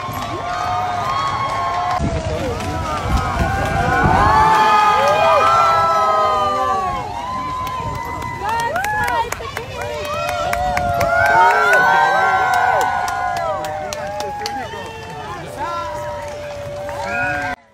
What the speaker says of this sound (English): There were cheers from the crowd as they caught their first glimpse of the Princess of Wales and the King heading from Buckingham Palace to Horse Guards Parade